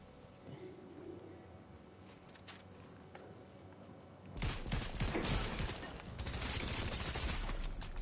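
Rapid gunfire in a video game erupts loudly midway and carries on as dense continuous bursts, after a quieter stretch of scattered sounds.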